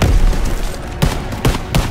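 Suppressive gunfire in Call of Duty WW2 during a July 1944 battle at Marigny, France: rapid bursts of close rifle and machine-gun shots cracking over a dense roar of battlefield noise.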